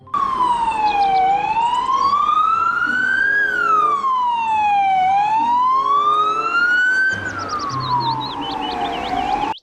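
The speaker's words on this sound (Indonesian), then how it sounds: "Yang ini ada mobil ambulans." A toy ambulance siren wails loud and close in slow rising and falling sweeps, steady for the whole stretch with a brief shift near the end.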